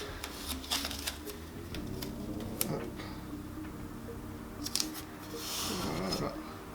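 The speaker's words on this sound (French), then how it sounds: "Donc je vais mettre du scotch double face" Double-sided tape is applied to a wooden bass guitar body, giving soft crackles, ticks and sticky rustling in irregular bursts, close and fairly quiet.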